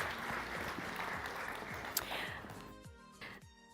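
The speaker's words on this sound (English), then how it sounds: "Can we give our finalists a round of applause?" Applause from the audience at a sustainability challenge demo day, cheering the pitch finalists: a diffuse, moderately distant clatter of clapping that thins out toward the end as voices start to come through.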